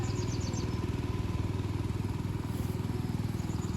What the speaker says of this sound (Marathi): तिथे ट्रॅक्टर चालू आहे.